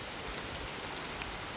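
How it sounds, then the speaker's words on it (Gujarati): Heavy, wind-driven downpour during a red-alert rainstorm in Banaskantha, Gujarat, a dense steady hiss of rain drumming on surfaces with no pauses and no voices. "અત્યારમાં પણ ધોધમાર વરસાદ ચાલુ છે"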